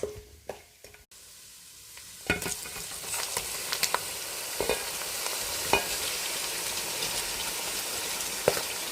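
Lemon pickle mix fries in a hot tempering of Kashmiri chilli powder, a steady loud sizzle with occasional stirring clinks and scrapes after a quieter start.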